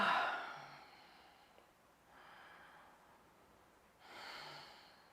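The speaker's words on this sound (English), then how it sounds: "take some shaking it off exhales where you make a loud sound as you exhale" Loud forceful exhales in a yoga class, a strong breathy burst followed by two softer, fainter exhales spaced a couple of seconds apart, with no talking.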